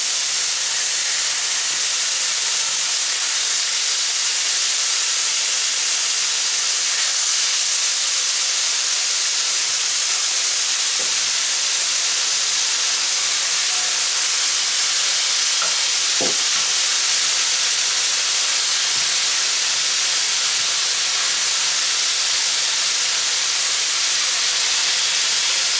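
Chicken pieces for Korean BBQ chicken frying in hot oil, a loud, steady hiss and sizzle that runs on without a break, with faint pops and crackles now and then and no talk.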